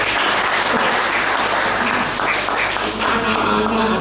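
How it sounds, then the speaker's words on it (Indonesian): A church congregation applauds during a Sunday service, steady dense clapping holding at a loud level throughout with no gaps. "Kasih tepuk tangan."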